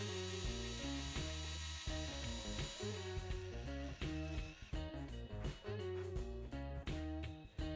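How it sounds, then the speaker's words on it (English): A small drill bit grinds out a rivet on a Matchbox 26b Foden Cement Mixer die-cast model, giving a close, continuous whirring with repeated stops and starts, under faint background music. "The other rivet comes off by using the same drill bit."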